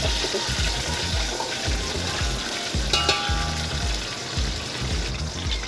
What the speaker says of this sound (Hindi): ये 1 कप तेल चला गया। तेल के साथ में ही ये गरम मसाले चले, इनको हल्का सा सौते करेंगे।